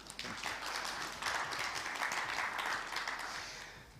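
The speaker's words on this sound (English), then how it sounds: "That's a good place to clap." An audience claps through a panelist introduction at a Kenyan financial markets event, steady moderate applause filling the room for the full span.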